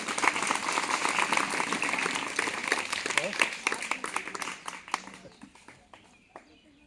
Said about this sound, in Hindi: बच्चे जोरदार ताली बजाएंगे